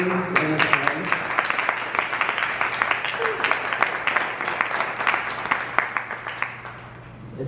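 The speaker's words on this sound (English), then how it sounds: "Let's give another round of applause to Working With Lemons." Crowd applause at a YouTube meetup in Salt Lake City, a dense, steady patter of many hands clapping that carries on for several seconds, with faint voices in the room and a low hum underneath.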